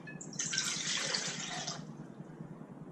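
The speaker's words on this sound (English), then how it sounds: "So we're going to add 1 3/4 cup of water." Water, about 1 3/4 cups, poured into a stand mixer bowl for bread dough: a brief splashing, trickling pour lasting under two seconds, then a quiet room.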